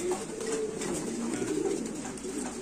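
A pair of Qalmon gaditano pigeons of almond bloodline, just moved into a bigger loft, coo softly and continuously, low, steady and fairly faint, with no talking.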